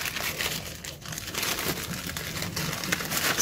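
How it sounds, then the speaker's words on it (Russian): Violet rosette slipped into a plastic zip bag, soft continuous crinkling and rustling of the plastic, close and quiet, with no talk. "вот таким вот образом мы ее помещаем в зип-пакетик"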